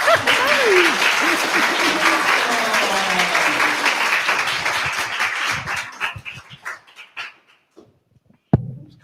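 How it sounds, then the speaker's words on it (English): Audience at a book talk gives a round of applause, loud dense clapping that thins into scattered claps and fades out, with a dog barking and some voices underneath. "Well, I thought that deserved a round of applause."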